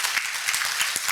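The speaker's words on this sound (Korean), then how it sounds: "이런 대목에서는 박수를 치셔도 되는데" Audience applause during a lecture on construction project management, a brief steady wash of many hands clapping together, moderately loud and continuous with no voices over it.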